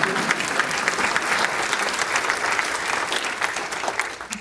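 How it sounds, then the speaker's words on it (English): Sustained audience applause at a county executive's State of Business address in Howard County, steady dense clapping from a large crowd, loud and continuous throughout. "Don't be afraid to clap, okay?"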